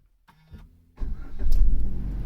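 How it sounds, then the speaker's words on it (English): A Suzuki Ignis is started with its push button: a brief electronic chime and faint click, then the starter cranks and the engine catches into a loud, steady idle close by. "to start the car or to turn on the ignition, we have to press this button."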